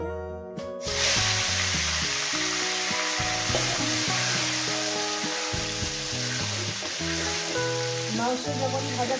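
Chicken meat sizzles in a pan with turmeric, a steady frying hiss under a loud melodic music bed throughout, with occasional stirring.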